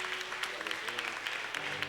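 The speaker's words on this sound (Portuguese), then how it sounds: "Mais palmas que louvam o Senhor." A church congregation keeps clapping in praise, a steady textured patter of many hands under sustained low tones, with voices mixed in.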